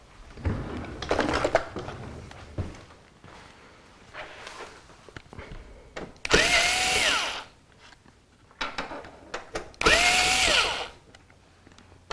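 Screws being backed out of slot covers on a Corsair 550D computer case with a power driver: two loud whirring bursts rising in pitch between quieter clicks, taps and handling noises, no talking.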